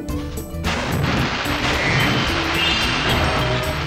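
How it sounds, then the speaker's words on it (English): Loud, continuous rumbling blasts in Spyro 2: Ripto's Rage, one burst after another with no gaps, dense and booming throughout. "those explosions will in fact hurt you"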